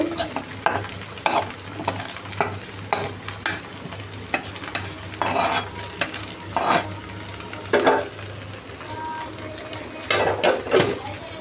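Cooked meat tipped into a pan of chowmein and stirred, a steady oily sizzle broken by repeated scraping and clanking of a spatula against the metal pan at close range.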